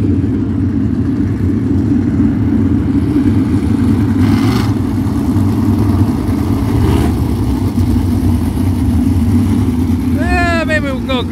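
Race cars lined up for a heat race at Black Hills Speedway, a loud continuous rumble of engines idling and revving nearby, steady throughout with a brief whistle-like chirp near the end.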